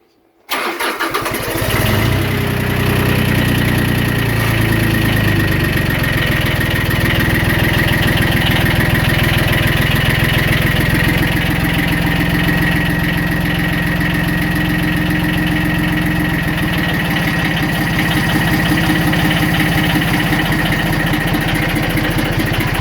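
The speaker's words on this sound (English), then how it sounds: "got a glow plug glowing, and then we'll flick the switch over to start." Iseki TX 2160 diesel compact tractor cranking and catching within a couple of seconds, then settling into a loud, steady close-up idle with a constant rattling drone.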